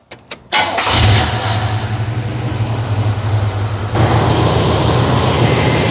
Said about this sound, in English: we're going to start the car, let it get up to normal operating temperature